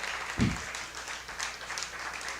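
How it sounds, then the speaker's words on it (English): Audience applause at a live Texas Tech baseball radio show with head coach Tim Tadlock, held where people gather to eat barbecue: a steady wash of clapping filling the short clip, with a dull low thump near the start. "Let's give Tim Tadlock a round of applause here on this Monday."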